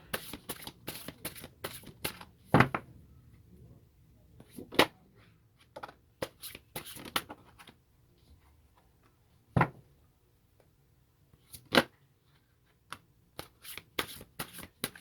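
Tarot cards being shuffled close up in quick riffling bursts, sharp papery flutters and snaps separated by brief quiet gaps, the bursts irregular but repeated across the whole stretch.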